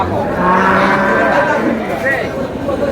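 A cow at a busy cattle market gives a long, loud, close moo lasting most of the moment, with crowd chatter murmuring underneath.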